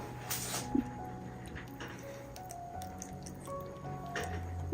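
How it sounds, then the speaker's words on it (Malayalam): Water splashing and gurgling into a mixer grinder jar for mackerel curry, with squishy drips and a short clunk, close and moderately loud against a steady mechanical hum. "ഇനി ആവശ്യത്തിനുള്ള വെള്ളം ഒഴിച്ചു കൊടുക്കാം"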